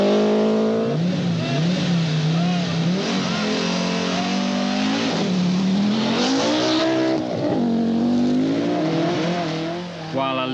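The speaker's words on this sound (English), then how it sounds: "the brilliant Rothmans pair of Toivonen in car number 7 and Vatanen in car number 4 are 3rd and 4th" Rally cars competing at the 1983 Finland 1000 Lakes Rally, including the Rothmans entries, with engines droning and revving continuously and loudly throughout, rising and falling in pitch as they accelerate, while a commentator talks over them.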